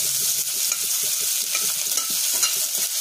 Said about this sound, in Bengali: খুব একটা লাল করে পেঁয়াজটা ভাজবো না, রসুনটা একটু লাল লাল হয়ে যায়।